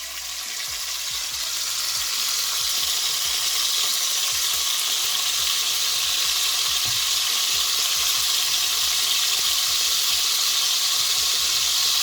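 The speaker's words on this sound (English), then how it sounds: "I believe the oil is hot enough now, so I'm gonna drop the bacon in." Bacon sizzles and fries in hot oil in a pot, a loud, steady crackling hiss that holds evenly throughout with small pops scattered across it and no talking.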